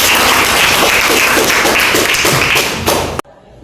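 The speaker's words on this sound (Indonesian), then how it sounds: "Berikan tepuk tangan." A classroom full of students claps together in a dense, continuous burst of applause that cuts off abruptly near the end, followed by a brief quiet tail.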